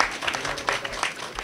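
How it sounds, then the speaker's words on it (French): Applause at a March 8 women's day ceremony at a communications ministry, honoring the secretary general; steady, moderately loud clapping from a seated audience throughout, with some voices mixed in. "Des applaudissements pour notre secrétaire général."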